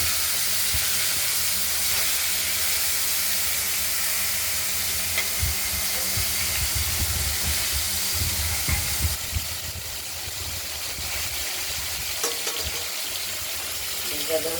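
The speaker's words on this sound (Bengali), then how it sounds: "এখন মাছগুলো ভাজা হচ্ছে" Pieces of katla fish fry in a pan with a constant, loud hiss and crackle, interrupted by occasional stirring thumps and scrapes and a faint voice underneath.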